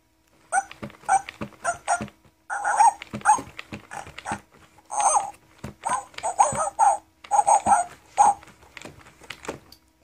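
An interactive toy puppy gives a string of short electronic barks and yips in quick irregular bursts, close and fairly loud, with brief pauses between.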